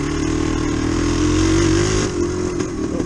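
A Yamaha DT360 motorcycle lugs along in second gear at low revs, a steady close engine drone with a firm low pulse that dips slightly near the end.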